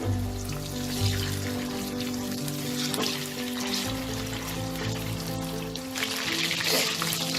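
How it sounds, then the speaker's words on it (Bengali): Chicken pieces fry crisp in a wok over a high flame, giving a loud, steady, dense sizzle with crackling spatter throughout and no voices. "এটাকে আপনারা হাই ফ্লেমে ভাজবেন, চিকেন থেকে যাতে জল না ছেড়ে দেয়।"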